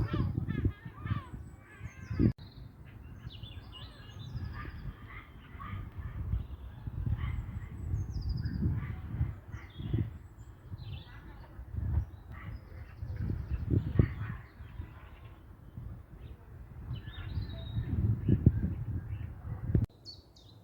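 Faint birds chirp and call in short bursts high above a steady outdoor murmur in London, with people talking nearby throughout.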